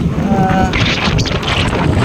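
Strong wind from Typhoon Nando in Abulug, Cagayan, buffeting the microphone in heavy, continuous rumbling gusts, loud and close, with rain not clearly distinguishable.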